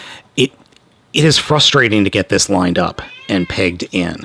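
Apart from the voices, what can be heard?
cats meowing at dinner time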